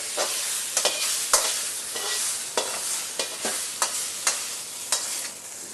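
Crêpe cooking in a pan over flames, a soft continuous sizzle broken by about a dozen sharp scraping and stirring taps from a utensil, close and with no talking.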